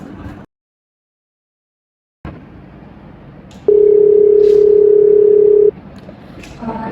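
While a customer is being called, a telephone tone sounds: after a brief silence and faint line noise, a steady, loud dial tone hums for about two seconds, followed by soft background noise.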